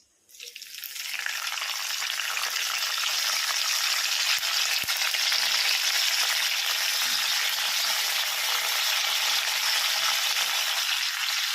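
Curry leaves hit hot oil in a pan, already holding cumin, and set off a sudden, steady, close hissing sizzle that stays loud and even throughout, with no talking.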